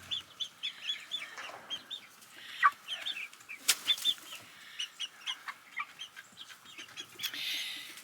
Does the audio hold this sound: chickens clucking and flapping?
yes